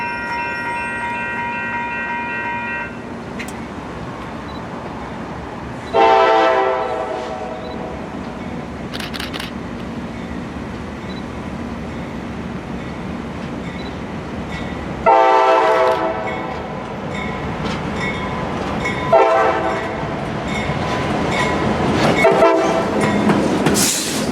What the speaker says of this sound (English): I hear that CSX train Y322 is preparing to come off the Downtown Spur